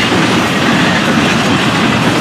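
A double-stack freight train rolls past on a windy Central Florida evening, a loud, steady roar of wheels and rail noise lasting throughout, with no voices.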